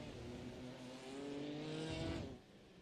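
A BMW M4 GT race car engine howls at Spa-Francorchamps in a sim racing game, a steady rising tone that climbs, then drops sharply as it shifts or lifts off.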